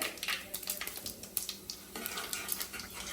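Hing (asafoetida) and cumin sizzling in hot oil in a pan while making vada pav, a steady crackling fry with stirring and light scraping of a utensil against the pan, close and moderately loud.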